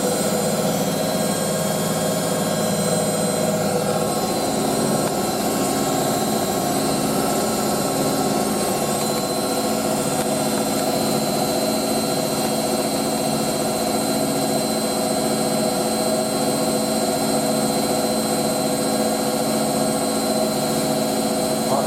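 The GC motor of an April 1986 Hotpoint 9530 Electronic 1000 Plus washing machine spins hard in a loud, steady whine with a layered mechanical drone that holds level throughout.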